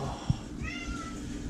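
A house cat lets out a single clear meow close by, with a faint thump just before it and quiet room noise around.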